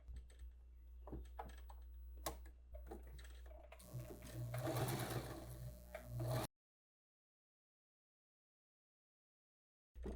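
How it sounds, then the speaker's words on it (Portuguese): Sewing machine running a decorative stitch on children's clothing, starting with light clicks and taps, then a rapid rattling whir for a couple of seconds before stopping abruptly into silence. "eu vou levar agora a máquina e vou fazer com o pontinho MN dessa máquina aqui"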